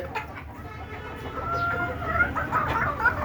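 Desi chickens cluck in a close, continuous flock murmur, with several overlapping calls rising and falling steadily over a constant low background noise.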